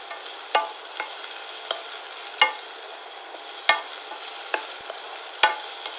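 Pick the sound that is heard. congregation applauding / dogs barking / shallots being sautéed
shallots being sautéed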